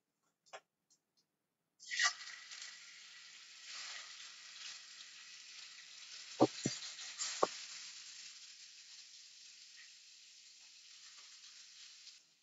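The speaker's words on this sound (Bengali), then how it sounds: "ম্যারিনেট করে রাখা চিকেন গুলো, এইগুলো এই কড়াইয়ের তেলে দিয়ে কম আছে চিকেন গুলো একটু ভেজে নেব।" Marinated chicken sizzles steadily in hot oil in a wok after a sharp clatter, with a few louder crackles and pops partway through and no talking.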